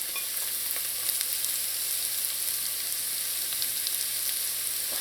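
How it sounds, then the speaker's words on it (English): Minced garlic, hot pepper and translucent onion sautéing in a hot pan, a dense, even crackling sizzle heard up close, with faint occasional stirring clicks and no voices. "I'm going in with some chopped or minced garlic and a few pieces of hot pepper"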